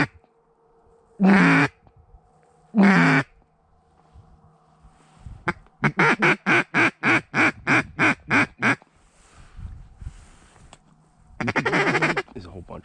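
Duck calls in the muck during an early-season duck hunt: two short bursts, then a rapid run of about ten evenly spaced quacks, and a final longer burst, loud and close over quiet marsh background.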